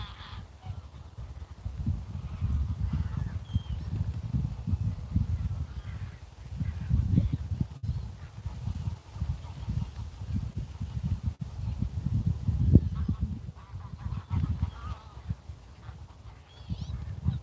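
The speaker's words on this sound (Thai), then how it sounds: "มาชมบรรยากาศ ชมเป็ด ชมหาน ชมนกค่ะ" Geese honk in irregular overlapping bursts among ducks and other birds, a steady chorus of throaty calls that swells and fades over a long stretch.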